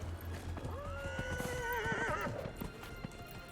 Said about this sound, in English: The poor horse.